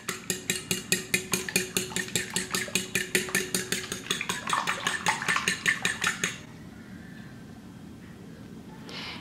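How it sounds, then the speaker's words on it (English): Eggs whisked in a bowl for a frittered apple pie batter: a fast, steady run of sharp clinking strokes against the bowl for about six seconds, loud and close, then stopping abruptly into quiet. "Mix your eggs good before you add in your milk."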